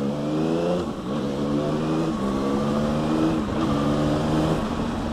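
A 2021 Yamaha XSR 900 motorcycle engine revving hard, its pitch sweeping up quickly several times in a row with brief dips between pulls, loud and close with no voices.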